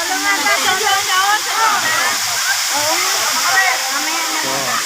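Steady broadband rush of Bato Spring Falls, a waterfall at a spring resort in San Pablo, Laguna, heard close and continuous with voices and chatter running over it throughout.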